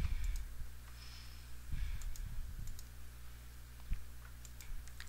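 Typing on a computer keyboard, with sparse, irregular key clicks close by and soft, some bunched together and others spaced out, over a quiet room with no talking.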